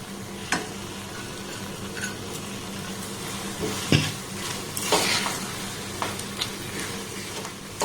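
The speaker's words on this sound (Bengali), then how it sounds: "গ্যাসের ফ্লেমটাকে একদম লো রেখে এটাকে দেখুন আমি নাড়াচাড়া করছি কন্টিনিউ।" Sabudana laddu mixture with cashew pieces stirred continuously in a pan over a low flame: soft scraping and occasional spoon knocks against the metal above a faint, steady sizzle, close by.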